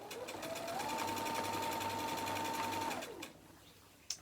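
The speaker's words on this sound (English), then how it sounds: "Sew it together." Sewing machine stitching quilt pieces together, a steady run of about two seconds that starts, holds an even whirring pace, then winds down and stops, fairly quiet and close with no talking.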